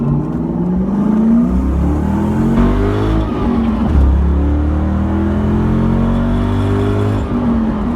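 A '96 Ford Mustang Cobra fitted with SVO sidepipes revs loudly and close by, engine pitch sweeping up and down in repeated throttle blips over a deep, continuous rumble.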